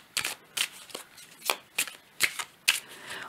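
Tarot-style cards being shuffled and drawn during a card reading, a series of about seven crisp papery riffles and slaps spaced unevenly, close and clear with no talking.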